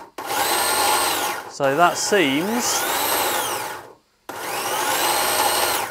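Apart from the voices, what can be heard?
electric motor running via Hobby King motor driver and RC set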